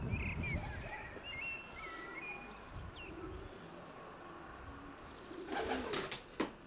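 Racing pigeons coo softly inside a loft holding young birds and stock pigeons, low murmuring calls over a faint rustling background, with a couple of brief louder knocks or flutters near the end.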